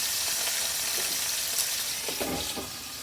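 Pork chops and potatoes frying together in one pan, a bright continuous sizzle with crackles and a few scraping, stirring sounds partway through, close and fairly loud, no voices.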